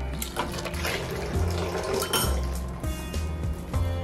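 Rose water poured over a layer of Hyderabadi biryani topped with coriander, mint, rose petals and fried onions: a steady liquid trickle with a few light clinks of kitchen vessels, fairly close and without talk.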